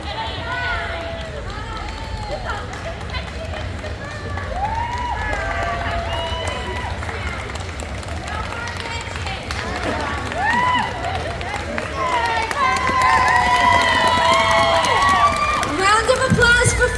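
A crowd at a pinup pageant during a tattoo convention, applauding and cheering, with clapping and whoops that build louder toward the end, mixed with lively chatter and shouts.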